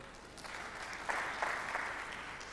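An audience at an education conference claps for a panel, a steady wash of applause that stays fairly quiet and distant throughout, with no talking on top.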